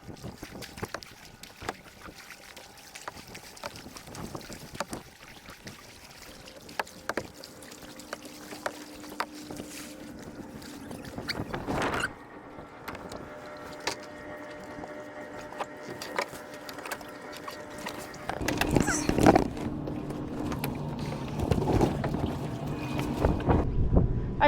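Wind gusting across an open microphone while a small dinghy is rowed back toward a moored yacht, steady rushing noise with water and boat sounds, rising louder and rougher in the last few seconds.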